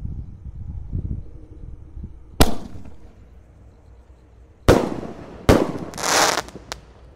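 Roman candle fireworks launched on New Year's Eve 2025: a few loud, sharp bursts spaced apart, each leaving a short hissing, crackling tail, with quiet rumbling between them.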